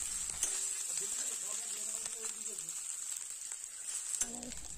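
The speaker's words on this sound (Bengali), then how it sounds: "মশলা ভালোভাবে কষাই করে নেব।" A paste of garlic, ginger and chopped green chili fries in a pan with a steady, close sizzling hiss that runs throughout, broken by a few soft stirring scrapes.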